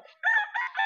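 A rooster crows once at close range, a bright, clear call in a few rising and sustained segments, standing alone without talk.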